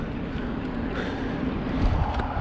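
Strong wind buffeting the microphone in a steady low roar on a cross-country mountain bike trail in Brno, with faint rustling in the background and no speech.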